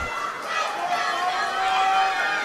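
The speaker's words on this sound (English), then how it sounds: "We can hear the energy from the crowd." Crowd noise at a provincial swimming championship finals session in Vancouver, a steady roar of cheering and chatter from the stands that swells slightly toward the end, with whistles and shouts over the echoing pool hall.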